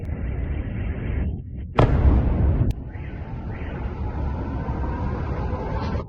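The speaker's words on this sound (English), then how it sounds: "Guys, we're being bombed." Missile strikes boom in the distance amid a roaring rumble, with one sharp loud blast near the middle followed by a sustained low roar.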